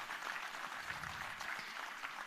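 An audience at a conference on creating wealth through markets gives a round of applause to welcome the finance minister, a soft, distant, even wash of many hands clapping steadily throughout.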